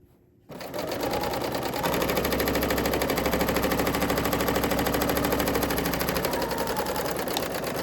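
An overlock sewing machine runs a seam through fabric with the thread tension turned up to 5.5, starting after a brief pause and then whirring steadily in a fast, even mechanical chatter that stays loud and close throughout.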